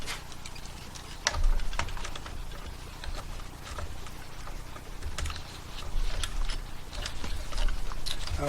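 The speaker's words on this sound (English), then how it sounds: "I guess I got to put my ringer on there first. The hand crank." A TAJ-3MR field telephone's ringer hand crank is fitted and turned, giving scattered clicks and rattling mechanical knocks at close range, fairly quiet with no voices.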